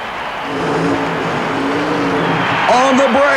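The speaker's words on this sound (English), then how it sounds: "Here's Kansas's entry. Ken Crum and the Wild Thing, rear-engine dragster." Kansas rear-engine dragster on a mud racing run at a super modified mud drag event in Oklahoma City, a steady loud engine roar under a commentator's voice, with a sharper rising rev near the end.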